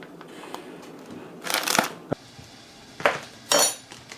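A fork scrapes and clinks against a bowl while mixing a batter of rice flour and wheat starch, with a few louder scraping bursts over a quiet background.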